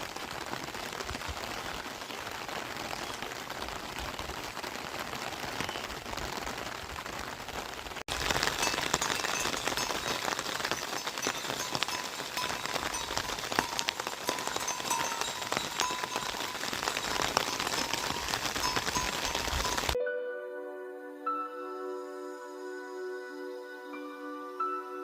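Rain falls steadily in a hill village of the Indian mountains, a continuous close hiss that thickens and grows louder partway through before cutting off abruptly near the end, where soft music takes over.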